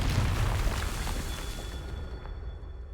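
A Confringo blasting spell explodes in the video game Hogwarts Legacy, a loud rumbling boom that opens strongly and then decays into a long, steady roar.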